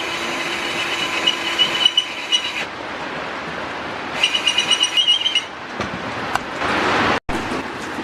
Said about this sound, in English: drilled the holes